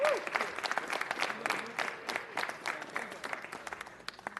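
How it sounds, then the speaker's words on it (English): A city council meeting audience applauds locally produced Academy Award–nominated films with a steady, moderately distant patter of many hands clapping, gradually tapering off. "How about a big round of applause for locally produced films nominated for an Academy Award?"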